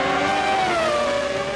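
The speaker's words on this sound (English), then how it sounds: "the mid-90s saw Ferrari as the only team on the grid still using ear-splitting V12s, and that sound remains truly iconic" A mid-1990s Ferrari V12 Formula One race car screams past at high revs, its steady, piercing engine note sliding slightly down in pitch as it passes, loud and without talk.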